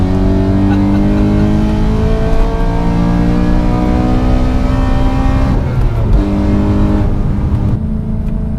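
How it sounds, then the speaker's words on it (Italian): A BMW M3 engine revs hard on a mountain road through French valleys, a loud sustained wail climbing and falling through the gears, with the sound rolling back off the slopes and no voices. "Giri tedeschi che riecheggiano nelle valli francesi"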